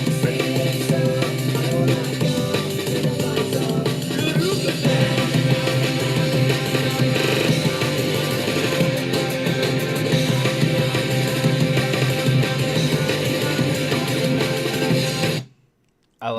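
A breakcore remix of a pop-punk song plays loud and dense with full-band distortion and fast chopped drums, running steadily for about fifteen seconds before cutting abruptly to silence.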